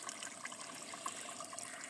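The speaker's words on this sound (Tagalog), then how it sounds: "Kanang kusog kayo ang tubig." Strong, cold spring water flowing from a mountain source, a steady broadband rush with no pauses, fairly faint and close by with no voices.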